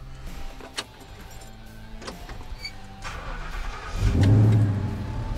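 A classic Ford F-100 truck with a swapped-in 5.0 Coyote V8 idles and starts up, a steady low engine hum that swells louder near the end, with faint clinks early on.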